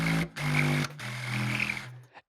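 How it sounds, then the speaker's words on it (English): A homemade double trumpet, two trumpets welded together and fitted with a saxophone ligature, plays low, buzzy, growling sustained notes in three short bursts with brief breaks between them, loud and close. "It's a trumpet with a saxophone ligature."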